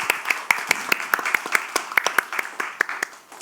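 A seminar audience gives a round of applause, a thin and uneven patter of separate hand claps from a modest crowd, fairly close and steady for a few seconds.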